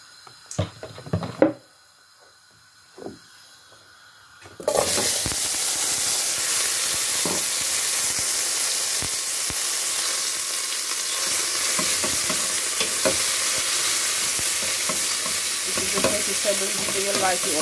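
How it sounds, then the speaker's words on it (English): Asparagus dropped into hot olive oil in a pot, a few clicks and taps, then a sudden loud, steady sizzle that hisses continuously with occasional stirring knocks, close by. "I'm just going to add olive oil to the pot and just steam a couple minutes."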